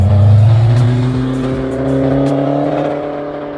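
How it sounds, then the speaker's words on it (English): A 1991 Toyota MR2 fitted with a TCS Motorsports exhaust revs close by, its steady, loud humming drone swelling and easing slightly over a few seconds with no talking. "The exhaust is from TCS Motorsports. I love this exhaust. It just has the perfect hum"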